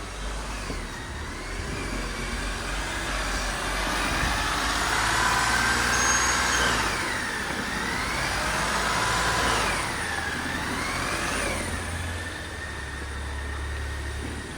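A Toyota Hyryder S hybrid's engine runs steadily, its pitch rising and falling several times as it revs up and settles, heard from close by with no talk.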